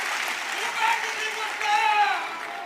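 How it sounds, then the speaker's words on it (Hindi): Applause from a crowd at a political rally in Faridabad, Haryana, a steady wash of clapping with swells, under a voice. "ये तालियों की गड़गड़ाहट की आवाज चंडीगढ़ तक पहुंचा दो"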